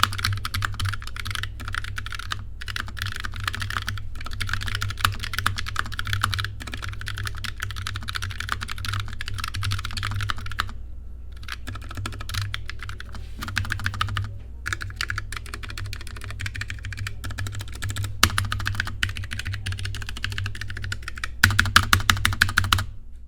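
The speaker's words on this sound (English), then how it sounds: "They're Chalk V2 switches from Kailh, and Fanatec calls it speed switches. They're linear, super smooth, very stable, and have a wonderfully satisfying sound." Fast, continuous typing on a Fanatec keyboard with factory-lubed Kailh Chalk V2 linear switches, close and crisp, with brief pauses and a louder flurry near the end.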